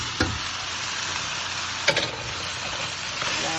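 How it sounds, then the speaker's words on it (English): Parboiled rice and chickpeas sautéing together in a pot for a one-pot meal, a steady soft sizzle throughout with two brief stirring scrapes, close and alone with no talk. "I'm going to let this saute for a couple more minutes, binding my parboiled rice and also the chickpeas"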